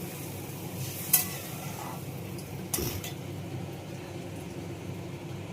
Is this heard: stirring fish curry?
yes